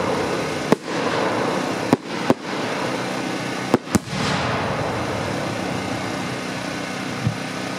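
Fireworks shells launched at a pyrotechnics demo, several sharp loud reports spaced irregularly over a few seconds, each followed by a rushing hiss, against a steady outdoor background hum.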